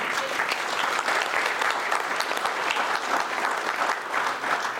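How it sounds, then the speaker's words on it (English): Steady, dense audience applause at a charity evening with a historical fencing club's sabre demonstration in Toronto, continuous and full throughout without a break. "Just give yourselves a round of applause for coming out."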